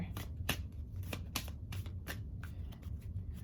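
Tarot cards being shuffled by hand, a quick run of crisp riffling bursts repeating over a low background rumble.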